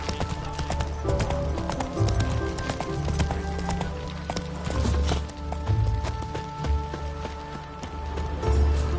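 Horse hooves galloping in The Witcher 3 video game, a steady rapid clip-clop running continuously and fairly loud under layered game music and ambience throughout.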